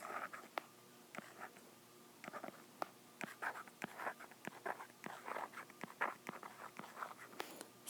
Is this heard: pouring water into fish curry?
no